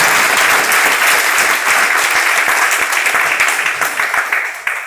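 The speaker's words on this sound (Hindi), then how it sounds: "एक जोरदार ताली हमारे ट्रेनर गगन सर के लिए" An audience at a company job-training event breaks into loud, sustained applause for their trainer, a dense roar of clapping that stays full throughout and only starts to thin near the end.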